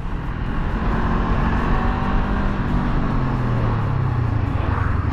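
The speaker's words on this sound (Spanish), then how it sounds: "hacemos una prueba de frenado para ver cómo funciona ese ABS de primera generación" A 2019 Honda CBR 500 motorcycle brakes hard with its first-generation ABS, heard as loud, close engine and wind roar whose tone sinks as the bike slows.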